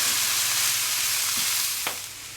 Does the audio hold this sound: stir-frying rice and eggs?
yes